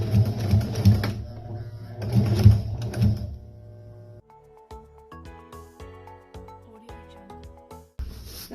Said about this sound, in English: The sewing backstitch.